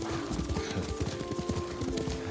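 Horse hooves clip-clopping in a steady galloping rhythm in the Ghost of Tsushima game on PS4, loud and close under a sustained musical drone, with a brief whinny.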